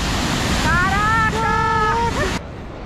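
Water rushes with forceful pressure near the largest glacier in continental Europe, a steady, loud roar throughout. Brief tonal sounds like a voice rise over it midway before the roar drops off abruptly.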